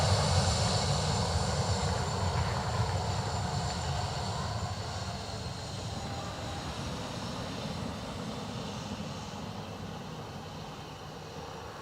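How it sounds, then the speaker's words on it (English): An ATR turboprop airliner arriving from Edinburgh drones steadily with a low, broad engine roar that stays fairly loud and even throughout, slowly easing off as it passes. "ATR from Edinburgh."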